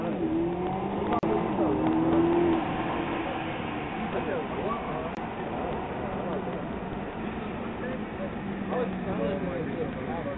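A Lamborghini car drives nearby, a steady engine rumble with rising and falling revs over road noise, while people talk over it throughout.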